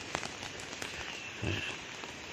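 Rain falls steadily in a dense, soft hiss while a frog gives a brief low croak partway through, both fairly faint.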